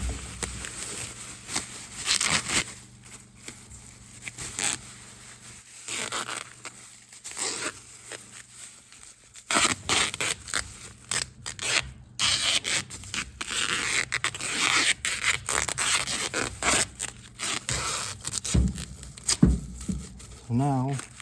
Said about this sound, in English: I'm going to put this plastic bag on it and use the duct tape